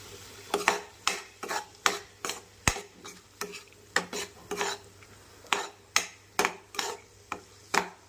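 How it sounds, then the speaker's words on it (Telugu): A spoon scrapes around a pan while bendakaya pulusu, an okra curry seasoned with salt and chilli, is stirred: about twenty steady, rhythmic scraping strokes, close and clear, with no talking. "తగినంత ఉప్పు, తగినంత కారం తీసుకొని ఇప్పుడు దీన్ని బాగా కలుపుకోవాలి."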